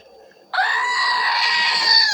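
A goat lets out a loud, sustained scream that breaks sharply out of near-silence and holds steady for over a second and a half, used as a sound effect.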